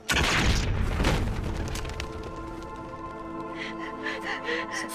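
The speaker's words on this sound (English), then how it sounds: "Gaius just shot Crash." A gunshot from the TV series Battlestar Galactica rings out as a loud boom at the start, its roar decaying over several seconds with faint clicks and tones trailing after.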